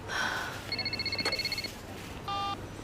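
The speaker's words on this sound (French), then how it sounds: "C'est mon téléphone." A mobile phone rings with short electronic tone bursts, a repeated beeping pattern followed by a brief chord-like ring, fairly quiet against a soft background hum.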